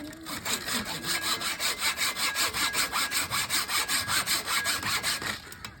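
A hand saw cuts through wood in a steady back-and-forth rhythm of about twenty rasping strokes, loud and close, with no voices over it.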